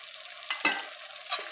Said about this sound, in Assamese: মছলাখিনি দি পেলাই অকণমান ভাজি ল'ম।